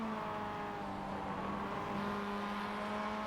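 Mazda MX-5 race car running smooth laps at Lime Rock during an MX-5 Challenge race, heard as a steady engine drone with a constant pitch that stays even and moderately distant throughout, with no voices.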